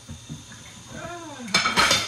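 Dishes being washed at a kitchen sink: soft knocks of plates and cutlery, then a brief wavering squeak and a loud rush of running water near the end, with no talking.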